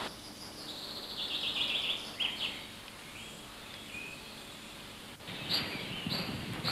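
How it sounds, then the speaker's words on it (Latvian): Flycatchers at a garden nest box in summer, their short high chirps and calls coming in bursts against a steady outdoor background with faint rustling, with no talking. "Baro reizi minūtē ēdelīgi gan tie mušķērāji"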